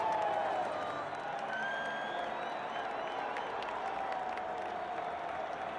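Cheering and clapping from an arena crowd: a steady wash of applause with scattered shouts, moderately distant and unbroken, the roar high at the start and then holding at a constant level.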